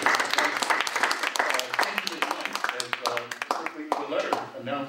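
Applause in a studio or hall to welcome a candidate for 5th Ward, sustained clapping from a modest group with distinct individual claps and a few voices murmuring underneath.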